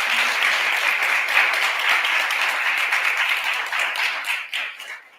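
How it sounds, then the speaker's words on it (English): Sustained applause from a crowd, steady clapping that holds for several seconds before tapering off near the end. "Let's give them all a round of applause."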